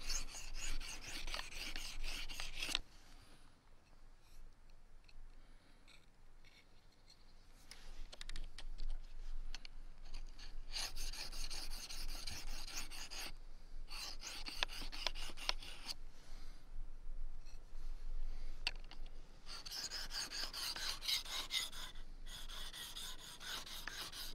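A knife blade is drawn over the coarse side of a sharpening stone in steady rasping strokes, bursts of grinding alternating with brief pauses, close and fairly quiet with no talk.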